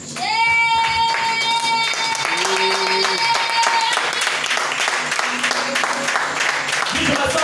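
A church congregation breaks into loud, sustained applause and clapping that fills the room, with a held organ or keyboard chord sounding over it in the first half.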